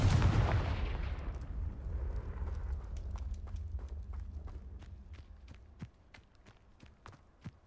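A Confringo blasting spell from the Hogwarts Legacy video game goes off with a loud, rumbling explosion that slowly fades, leaving a scatter of sharp debris clicks and small cracks ticking away into the quiet.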